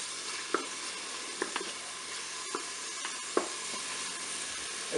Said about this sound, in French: je vais mettre mes oignons dans la cuve. Je vais faire dorer mes oignons